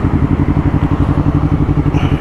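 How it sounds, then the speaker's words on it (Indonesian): Honda CBR 250RR motorcycle engine close by, a loud steady pulsing throb with a rhythmic beat running throughout; no distinct quick-shift cuts stand out. "jadi kalau kalian dengar quick shift, suara quick shift ya itu tadi pakai MBR tag"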